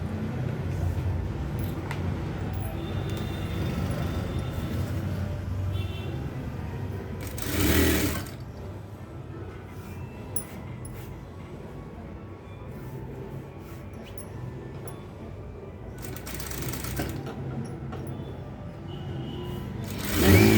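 Sewing machine stitching an embroidered dress, a steady continuous motor whir running throughout at moderate level, with two brief louder bursts partway through.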